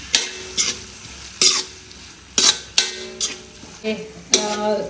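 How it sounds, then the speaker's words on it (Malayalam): Sautéing mint and coriander leaves in a pan: a steady sizzle broken by repeated sharp scrapes and clinks of a spoon against the pan, close up, with no speech. "നന്നായിട്ട് വഴറ്റണം കേട്ടോ"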